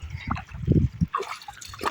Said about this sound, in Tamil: என்னமோ தண்ணியில விளையாண்டுருக்காப்ல